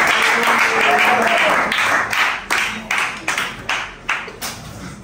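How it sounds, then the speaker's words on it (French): Audience in a Pointe-Noire, Congo fashion contest show applauding the fifth contestant: a steady burst of close, dense clapping that thins into a few scattered, fading claps toward the end. "acclame un peu pour le cinquième candidat"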